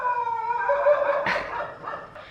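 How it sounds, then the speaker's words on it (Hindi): A dog howls and whines loudly and close by in a long drawn-out cry, then gives a few short yips and barks near the end. "और अब ये कुत्ता कुकुर कुकरू कुकुर कुकुर ये कुकुर हल्ला मचा रहा है।"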